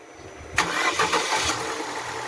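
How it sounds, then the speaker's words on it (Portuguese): A 2015 GM Chevrolet Classic 1.0 8V car with a misfire at high speed and high fuel consumption cranks and fires up, a sharp start followed by a rough engine running steadily nearby. "Rua, liga o carro aí."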